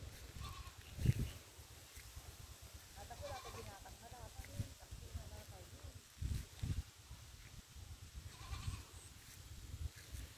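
Goats bleat a few times at a distance, faint and intermittent, amid rustling and quiet outdoor background with some soft speech.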